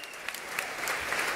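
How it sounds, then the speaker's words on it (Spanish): A church congregation claps during a sermon on prayer, a brief, fairly faint burst of dense, even clapping with no voices over it. "Si tú quieres aplaude y si no, no."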